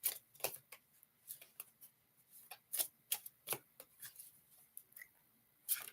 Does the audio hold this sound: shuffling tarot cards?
yes